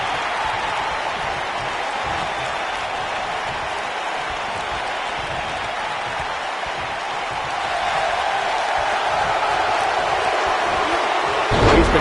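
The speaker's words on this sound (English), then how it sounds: "Listen to this crowd." A virtual arena crowd in the WWE 2K19 wrestling game roars in a steady, dense wash of cheering and applause, swelling a little toward the end.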